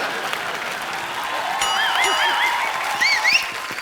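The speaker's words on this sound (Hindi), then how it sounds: "मोमो के धागे की स्टार कास्ट के लिए तालियां।" Studio audience applause on a Hindi TV comedy show, a steady dense clapping crowd filling the whole clip, with whistles and cheers rising over it.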